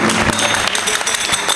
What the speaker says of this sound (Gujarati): આપણે જોરદાર તાળીઓનો નાદ કરીએ.